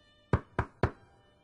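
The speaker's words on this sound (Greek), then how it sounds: "ακούστηκε χτύπημα στην πόρτα" Three firm knocks on a door, evenly spaced and close, sharp and hollow, each fading quickly against a quiet background with no talking.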